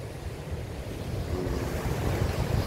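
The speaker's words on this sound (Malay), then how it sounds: "Bagus sekali ombaknya bosku." Indian Ocean surf crashing on Lhoknga beach in Aceh, a steady broadband roar of breaking waves with wind noise, growing slightly louder toward the end, with no voices.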